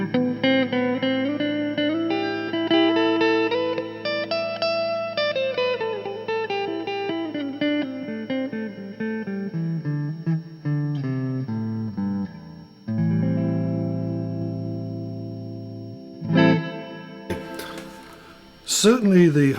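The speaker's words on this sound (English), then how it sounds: "Certainly the humbucker, I like the sound of the humbucker." Glarry GTL semi-hollow budget electric guitar on its bridge humbucker, playing sustained chords and melodic lines with smooth harmonics, then a few sharper strums and bright chord stabs near the end, close and clear with no voice.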